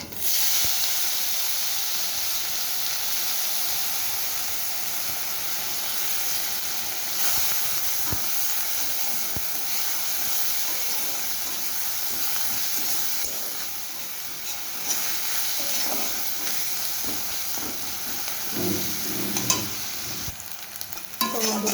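Two onions frying in a pan with nigella seeds, turning light reddish-brown and stirred now and then: a steady, loud, close sizzle and hiss with occasional scraping in the last few seconds, no voices.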